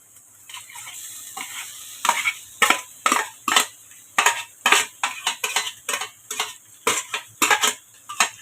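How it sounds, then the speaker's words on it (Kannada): Potatoes fried in a home kitchen pan, with a steady low sizzle broken by a dozen sharp scraping stirs of a utensil against the pan, close and fairly loud, with no voices. "ಬಟಾಟೆ ಹಾಕಿ ಫ್ರೈ ಮಾಡ್ಕೊಳತ್ತಾರ ನೋಡ್ರಿ"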